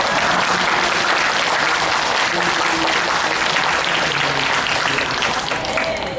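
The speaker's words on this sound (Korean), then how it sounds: "박수 한번 쳐주세요." Steady, dense applause from a church prayer gathering fills the whole stretch, loud and continuous with no pauses.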